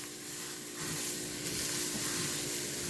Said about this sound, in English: I'm going to let all my spices roast into my rice